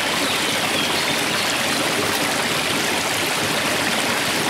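Flowing stream water rushing steadily outdoors while being photographed, a dense, continuous close-up wash of water noise with no voices.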